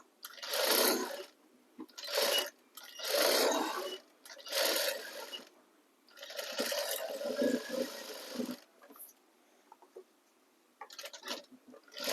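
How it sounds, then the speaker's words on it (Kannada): An electric sewing machine stitches a border onto a net sleeve, running in several short, close bursts separated by brief pauses, with a longer continuous run near the middle. "ಹಂಗೆ ಅದೇ ಪಕ್ಕದಲ್ಲಿ 3 ಹೊಲಿಗೆ ಹಾಕೊಂಡ್ ಬಂದ್ಬಿಡೋಣ."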